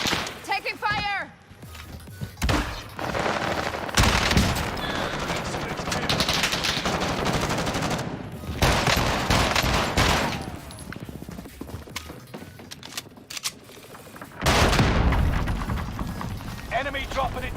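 Gunfire in a military shooter video game, repeated loud bursts and sustained automatic fire across the scene, close and intense, with voices speaking in between and under the shooting.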